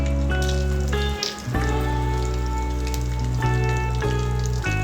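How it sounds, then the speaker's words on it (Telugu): Tempering seeds and asafoetida crackle in hot oil in a pan on the stove, a close, steady sizzle with a brief dip, heard alone over a constant low hum. "ఆయిల్ వేడిన తర్వాత తాలింపు గింజలు,"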